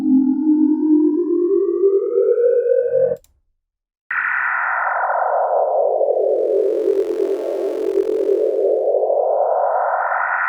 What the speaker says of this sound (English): there's only just that wavetable playing, no reverb, no nothing, just a bit of unison